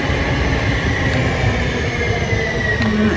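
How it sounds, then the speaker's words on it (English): A train rolls past at close range, a loud continuous rumble with faint wheel squeal and metallic clatter, broad and steady throughout with no voices. "There's the train"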